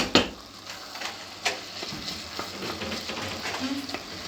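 Leek and minced meat kavurma frying in a pan, a close, steady sizzle broken by occasional clinks and scrapes of stirring.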